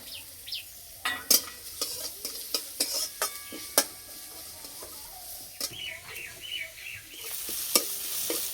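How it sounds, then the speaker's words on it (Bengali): Chopped garlic, ginger and onion hit hot oil with cumin and sizzle softly, broken by a run of sharp metal spoon clinks against the pan, with faint birdsong in the background. "পেঁয়াজ বেশি ভাজবো না, হালকা করে একটু ভেজে নেব"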